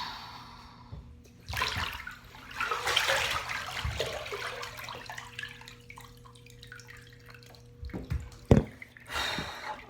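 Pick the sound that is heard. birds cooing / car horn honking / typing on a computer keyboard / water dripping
water dripping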